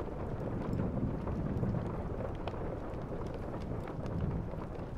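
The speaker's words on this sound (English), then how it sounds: "you are met by the pitter-patter of rain on the window and the faint crack of thunder" Steady rain pattering on a window with a low rumbling undertone of distant thunder, a soft, constant, dense wash of sound with no voices.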